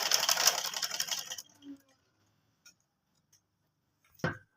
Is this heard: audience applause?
no